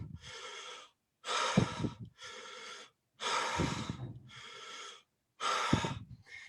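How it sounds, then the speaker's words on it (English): Rapid breathing exercise through nose and mouth: six or seven sharp, loud breathy bursts, each about half a second to a second long, separated by short silent gaps, close and alone with no talk. "Like it can be nose, mouth breathing. It can be mouth breathing."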